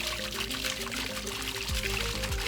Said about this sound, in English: Once it's powered, the pump kicks on without a fanfare. There's no startup chime, no blinky lights, just water moving like it's got somewhere to go.